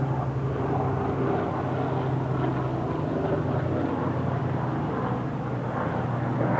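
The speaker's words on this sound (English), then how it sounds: "A lot of planes and helicopters, though." Aircraft drone overhead in an outdoor cemetery on a clear day, a steady, broad engine rumble that holds at an even level throughout, with no talking.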